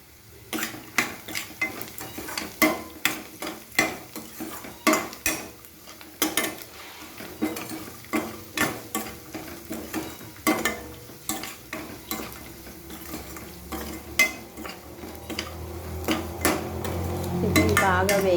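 A turmeric tempering for poha fries in a pan while a spoon stirs it in a steady rhythm of scraping strokes and metallic clinks over a low sizzle, with music rising near the end.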